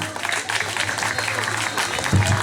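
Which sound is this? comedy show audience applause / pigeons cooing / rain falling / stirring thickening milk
comedy show audience applause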